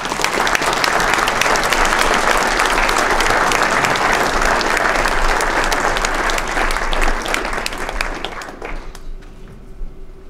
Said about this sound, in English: Let's give another big round of applause to our audience, our nominees and winners